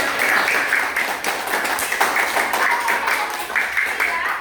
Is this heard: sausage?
no